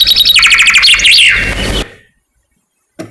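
Recorded song of a wild-type songbird: loud, close, rapid warbled and buzzy syllables with rising and falling notes, ending abruptly and followed by silence and a brief click.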